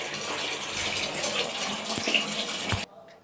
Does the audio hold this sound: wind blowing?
no